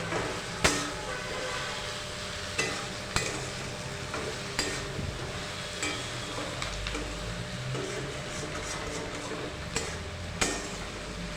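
Okra with spice paste and a little sugar stirred in a pan, a steady soft sizzle under occasional sharp scrapes and clinks of the spoon against the metal, close and moderately quiet with no talking.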